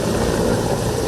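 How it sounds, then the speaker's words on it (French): The presidential helicopter landing at Kinkala, Republic of the Congo, makes a dense, steady engine and rotor roar, loud and close throughout. "l'hélicoptère transportant le président de la République a foulé le sol de Kinkala"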